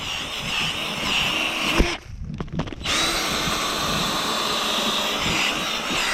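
A power drill bores a deep hole into the ground with corn stalks as backing while setting a coyote trap outdoors: a loud, steady whir that cuts out for about a second midway and then runs on continuously.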